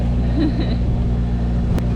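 A sailboat engine drones steadily at low pitch while motoring across a calm sea on a gorgeous day in Panama, loud and close, with a faint tonal whine briefly drifting above the rumble.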